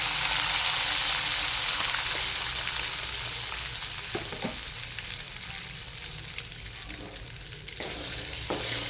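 Lentils fry in a pan for tomato coriander chutney, giving a continuous close hiss and crackle with a few faint stirring scrapes and no voices.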